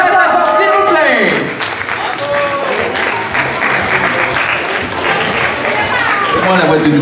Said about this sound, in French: On l'applaudit très fort, s'il vous plaît.